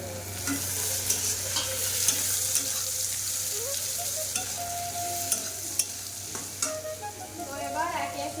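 Chopped onions fry in a pan, giving a continuous close crackling sizzle broken by occasional scrapes and taps of the stirring spoon, with no one speaking.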